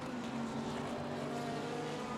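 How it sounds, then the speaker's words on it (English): Racing car engine in the GTR2 sim racing game at Suzuka West, a continuous moderate engine drone that holds fairly steady rather than revving hard, heard alone without talk. "You can tell just by the sound of the engine that maybe you can hear that he's not exactly full throttle through those corners"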